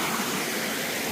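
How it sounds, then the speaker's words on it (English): Waterfall beside a hiking trail on a Vermont mountain, a steady broadband rushing roar of falling water, close and constant over a brief moment with no talking. "Beautiful waterfall here."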